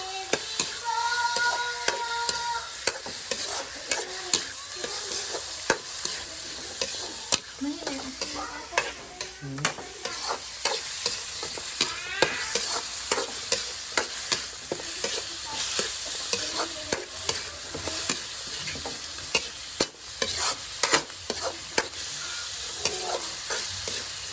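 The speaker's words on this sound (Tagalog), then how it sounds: "Luluto lang ito ng ano, hanggang mag-brown siya itong karne" Meat browning in a hot pan for dinakdakan, a continuous crackling sizzle broken by frequent scraping stirs of a utensil against the pan, close and fairly loud with no talk.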